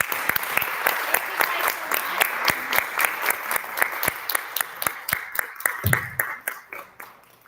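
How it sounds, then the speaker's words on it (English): Audience applause fills a town hall for school board trustee candidates, dense steady clapping from a crowd that thins toward the end, with a brief low voice near the close. "And a big round of applause."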